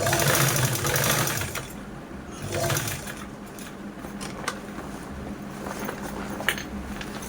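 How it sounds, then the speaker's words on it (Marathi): An electric sewing machine stitching along the edge of a bag, a loud rapid mechanical whirr in the first seconds that then drops to a quieter running hum with occasional clicks. "आता यानंतर या कडेने पण आपण स्टिचिंग करूनच घेऊया लगेच"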